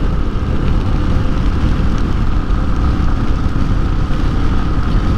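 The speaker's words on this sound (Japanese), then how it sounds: "雨なんですよ" Steady, dense rain noise and wind rush while riding a Yamaha Serow 250 motorcycle on a mountain pass in Hokkaido, a continuous loud wash with no talking.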